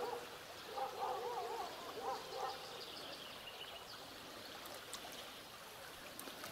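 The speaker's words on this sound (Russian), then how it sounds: "Поток воды отсюда бежит, вода с полей," A soft, steady rush of field runoff water flowing in a stream, faint and continuous, with a brief warbling bird-like call early on.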